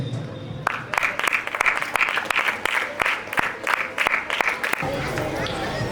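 An audience at an inter-school photography contest event breaks into loud, close applause with sharp individual claps, sustained for several seconds before cutting off to quieter room sound at the end.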